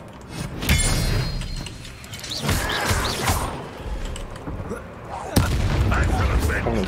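An Expelliarmus spell is cast in Hogwarts Legacy, with booming magical impacts and a sharp crack near the end, while a voice talks over the game sounds.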